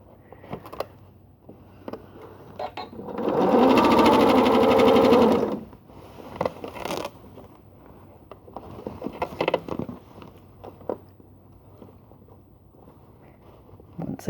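A sewing machine running a straight stitch through a quilted-square tote bag, one steady whirring burst of about two seconds, surrounded by quiet handling clicks and fabric rustles.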